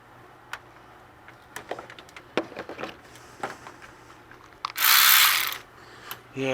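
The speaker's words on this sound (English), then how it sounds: "Yeah, this ratchet's getting weak." A worn, weakening ratchet wrench turns a tight radiator bolt on a Toyota Tacoma, giving sparse, irregular close clicks, then a brief louder rushing burst and a final quick run of clicks.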